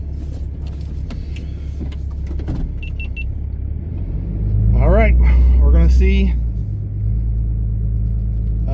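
Pickup truck engine rumbling as it climbs a deep-snow mountain road in West Virginia, a steady close drone that swells in the middle with higher whining tones, while someone talks briefly early on.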